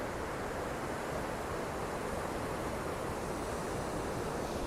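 Ocean surf breaking at Ventura beach, where surfers paddle out into waves of about six feet, heard as a constant dense roar of wash and spray that stays steady throughout, with no voices.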